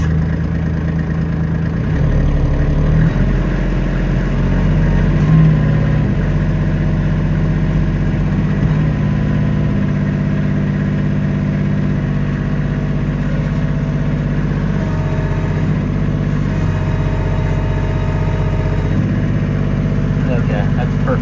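Kubota LX2610 compact tractor engine running steadily at about 2,000 RPM, a loud continuous low drone with a constant pitch throughout, and no talking over it.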